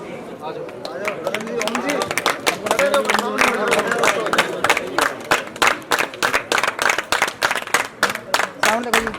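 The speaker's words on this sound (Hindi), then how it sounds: "तालियां रुकनी नहीं चाहिए।" Audience at a schoolteacher's retirement programme applauds, the clapping building into loud, rhythmic unison beats that grow more distinct and evenly spaced toward the end.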